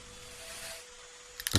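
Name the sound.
toaster popping up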